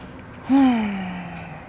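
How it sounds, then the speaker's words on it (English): A single deep, audible exhale during a yoga session, close and clear. It carries a soft voiced tone that sinks in pitch as it trails off over about a second. "Breathing."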